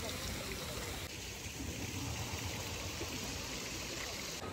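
The Dawki River near the India–Bangladesh border flows as a steady, close rushing wash of water, a dense, even noise with no pauses.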